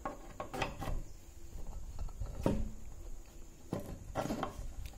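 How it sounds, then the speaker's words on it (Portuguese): Screws driven into a wooden table with an X-shaped base, heard as several short ratcheting, grinding bursts separated by brief pauses at close range. "A gente instala os parafusos aqui."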